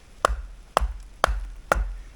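Four sharp, evenly spaced cracks of a JXE JXO knife being batoned through wood, each strike landing about half a second apart, close and crisp with no talk.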